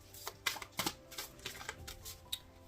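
Oracle cards are shuffled by hand up close, a quiet run of papery riffles and soft slaps in an uneven rhythm with no talking over it.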